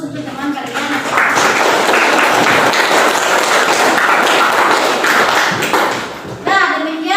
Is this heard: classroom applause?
yes